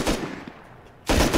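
Automatic fire from an AK rifle in the survival game Rust, two loud bursts separated by a quieter stretch of low rumble.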